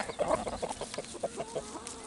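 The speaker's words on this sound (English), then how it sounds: "there's Sheldon, our big Bielefeld rooster." A big Bielefeld rooster on a small farm gives a run of close, throaty calls and clucks in uneven bursts over faint outdoor background noise.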